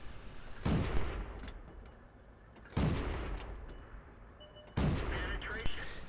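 Three heavy cannon blasts from a tank in World of Tanks, fired at an enemy artillery piece on the Steppes map. The shots come roughly two seconds apart, each a sharp boom followed by a rumbling tail, with faint battle noise between them.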